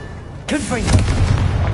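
A Confringo blasting spell goes off in the Hogwarts Legacy video game, a sudden loud fiery boom after a short quiet start, followed by a sustained rumbling blast and crackle.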